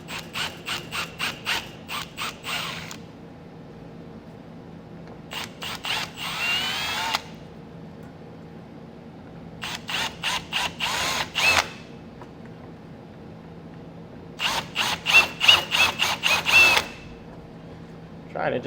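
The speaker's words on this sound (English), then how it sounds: "I'm taking a drill bit that's a little bit larger than the opening there, and we're just going to drill the rivets out" A power drill with an oversized bit drills out the rivets on a Curt trailer hitch receiver on a 2023 Ford Maverick, sounding as several close, whining bursts of rapid pulsing separated by pauses.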